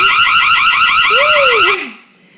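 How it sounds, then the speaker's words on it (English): A loud electronic burglar-alarm sound from a dog training collar warbles continuously, a rapid pulsing siren tone that cuts off abruptly near the end, with a faint whistle-like sweep underneath. "Got burglar alarm."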